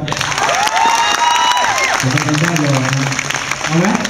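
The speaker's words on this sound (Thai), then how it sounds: "ถ้าพร้อมแล้วปรบมือให้หน่อยครับ" Concert crowd claps and cheers loudly, with voices shouting over the steady clapping and someone speaking through it.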